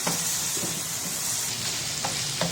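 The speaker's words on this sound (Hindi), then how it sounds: "और इसे थोड़ी देर के लिए अच्छे से भून लें" Yogurt fries in a hot pan alongside onions, giving a continuous bright sizzle, with a few soft scrapes as it is stirred through and no talking over it.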